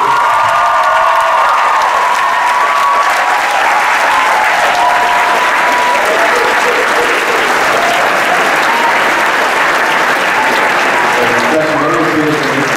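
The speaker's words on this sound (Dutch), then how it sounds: "Even een dag een applaus voor Lilian en Anno!" A school show audience breaks into loud, sustained applause and cheering for Lilian and Anno, with whoops and shouts over continuous dense clapping and a tonal musical line running underneath.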